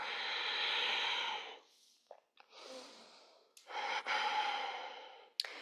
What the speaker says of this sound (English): Take a breath in and a breath out.